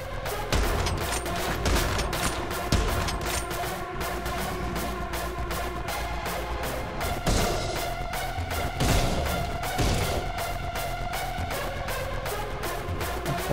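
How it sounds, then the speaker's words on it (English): Enemy gunfire in the video game Anger Foot: dense, continuous volleys of rapid shots with heavy thumps, loud and close throughout, no talking. "They're shooting me from here."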